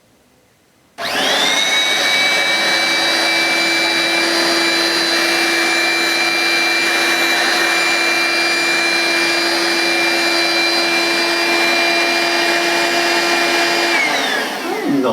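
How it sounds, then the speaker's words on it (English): Hoover S1083 Brushvac handheld vacuum cleaner switching on and running steadily over dirt, a loud, close, constant whine with a high motor tone, likely needing a new belt, before shutting off. "I'm going to pass it through the middle of this dirt in true ibaisaic style"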